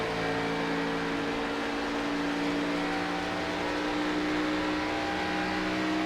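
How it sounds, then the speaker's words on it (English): A stock car in an Xfinity Series race at Kentucky gives off a steady, even engine drone with sustained tonal whine. It stays at a constant level rather than revving up. "Hear the car completely quiet going into 1."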